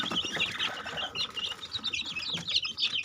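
Chickens clucking and squawking at feeding time over a mix of grower feed, fine corn and bran, a close busy flock with overlapping calls and no speech.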